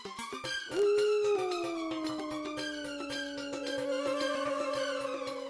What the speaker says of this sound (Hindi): कुत्ते के रोने की आवाज? ये कुत्ता अचानक रो क्यों रहा है?